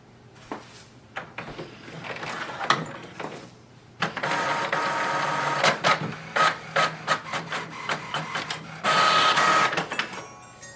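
An HP ENVY 6400 printer runs a copy job with mechanical whirring, a series of sharp clicks and feed thuds, then a steady high motor whine, close and fairly loud.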